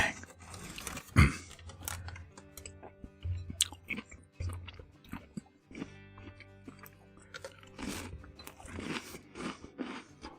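Close, wet chewing and crunching of shrimp stew (caldo de camarón) at a mukbang-style meal, with irregular bites and crunches spaced over several seconds and no talk.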